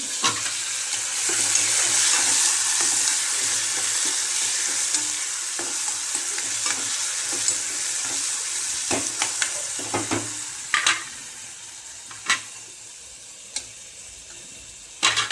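Onion and tomato dropped into hot oil in a pan, a loud hissing fry that eases off, followed by sharp spoon clinks and scrapes at irregular intervals, close up and without talk.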